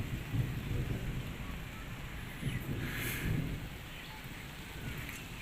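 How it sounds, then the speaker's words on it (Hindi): Rain patters steadily on a Punjab village while low, rolling rumbles of thunder swell and fade in the background, distant rather than close. "बादल गरज रहे हैं, आपको आवाज़ आ रही होगी बादलों की"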